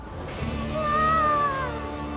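Cartoon cat gives a single drawn-out meow, rising then falling, loud and close in a short burst over a low background hum, with no talking.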